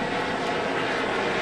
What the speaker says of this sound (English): I'm in a path of the helicopters today going to the hospital.